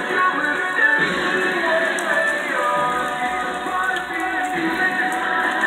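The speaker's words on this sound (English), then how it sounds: "It's raining." Steady outdoor rain patters on surfaces, an even, fairly loud hiss that runs throughout with no clear talk over it.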